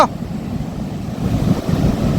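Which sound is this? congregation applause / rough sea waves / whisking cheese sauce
rough sea waves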